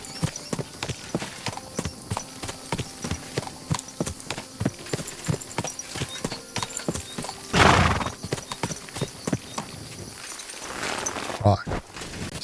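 Horse hooves clop at a steady walking rhythm in the video game Kingdom Come Deliverance 2, close and distinct, with a neigh near the end and someone talking over them.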